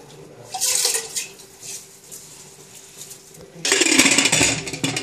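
Rice is swished and rinsed in water by hand in a kitchen: close splashing and trickling, softer in the middle, then a louder, sustained slosh of water near the end.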